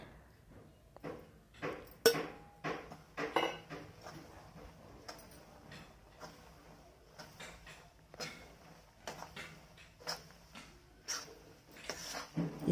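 Gram flour roasts in ghee in a pan over medium heat, heard as quiet, irregular scraping and clinking of a spoon against the pan, close up, with soft pauses between the strokes.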